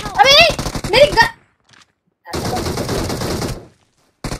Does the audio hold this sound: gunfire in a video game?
yes